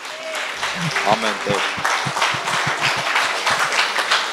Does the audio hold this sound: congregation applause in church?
yes